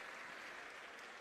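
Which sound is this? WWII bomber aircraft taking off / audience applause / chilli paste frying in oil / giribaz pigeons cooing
audience applause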